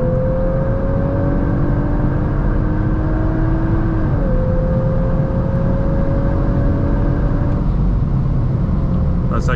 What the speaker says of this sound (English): That second gear shift wasn't good.